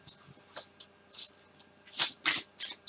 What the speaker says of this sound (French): je vais tirer donc une dernière carte pour avoir une conclusion